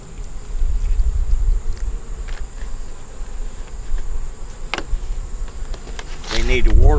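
Honey bees buzz in a dense, steady hum around a beehive outdoors on a hot July day, with a brief close pass and a voice starting up at the end.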